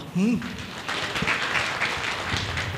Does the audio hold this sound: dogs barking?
no